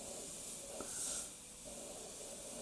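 An Ammo Atom airbrush sprays a heavily thinned paint mix with flow improver, giving a steady close hiss of air and atomised paint that swells briefly in the middle and then settles.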